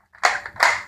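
A Nerf gun is cocked by hand with two quick plastic clacks close up, the slide pulled back and then pushed forward.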